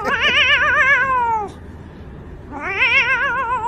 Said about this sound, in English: The Halloween noises, them cats making horror noises.